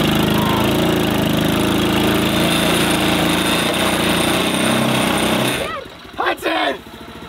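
A kids' ride-on tractor stuck in dirt on a farm drones loudly with a steady, straining motor hum for several seconds, then cuts out as a voice speaks nearby.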